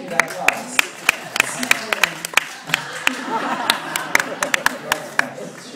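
Sparse, sharp hand claps ring out irregularly from a small audience, overlapping with people talking and laughing nearby.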